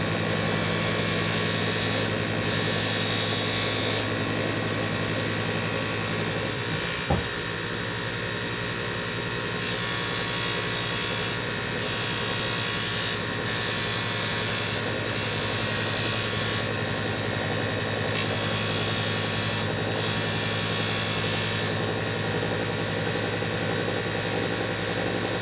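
A WEN 1x30 belt sharpening station grinds a blade edge at the top of the wheel, giving a steady, loud motor whine and belt hiss throughout, with one brief knock partway through.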